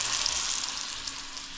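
Mushrooms with minced garlic fry in a pan, a steady close sizzle of bright crackling hiss that continues evenly throughout without any voices.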